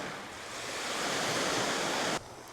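Calm sea waves washing onto Deep Bay Beach in Antigua, a broad steady hiss of surf swelling gently for a couple of seconds before cutting off, moderately close with no voices.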